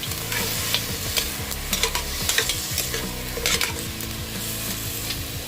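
Milkfish sizzling in a hot frying pan while a utensil stirs and scrapes through it, a loud, continuous fry with repeated stirring knocks up close.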